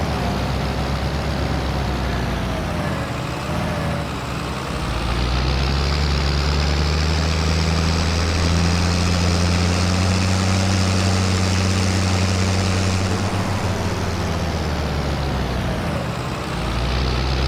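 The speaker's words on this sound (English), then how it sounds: "This is a decent sized tractor too." A decent-sized tractor engine drones in Farming Simulator 22, a steady loud rumble that rises in pitch and holds, then eases back down, with no talk over it.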